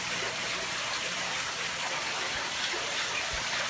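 Water rushing and splashing through a newly set up aquarium sump system, a steady broadband gush that stays close and even throughout with no talking.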